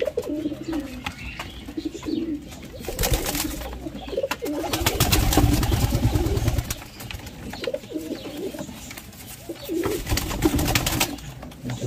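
Female pigeon cooing in repeated low, throaty phrases, fairly close, over a steady noisy background with no talk.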